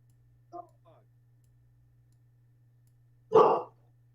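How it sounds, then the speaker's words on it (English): A dog barks once, short and clear, after a couple of faint clicks, heard over a steady low electrical hum in a quiet room. "That's a dog, all right."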